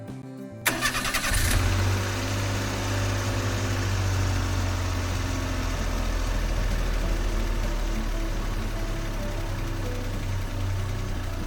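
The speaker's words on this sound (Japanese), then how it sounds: "ここでエンジンを始動してみます。" A cold car engine cranks and catches, roaring up to a loud, fast idle before settling into a steady, lower hum that continues throughout.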